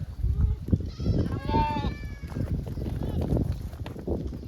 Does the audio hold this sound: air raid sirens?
no